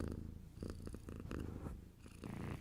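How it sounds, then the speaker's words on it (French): A cat purring steadily in a small wooden cabin, a low continuous rumble with soft rhythmic pulses, close and fairly quiet, heard alone without any talking. "le chat se mit à ronronner"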